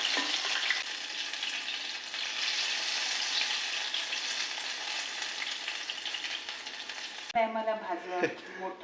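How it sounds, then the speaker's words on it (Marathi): Wild mushrooms coated in gram flour batter fry in hot oil, a loud, steady crackling sizzle lasting several seconds before cutting off abruptly as a voice briefly speaks. "बेसनच्या पिठात बुडवायची आणि टाकायची"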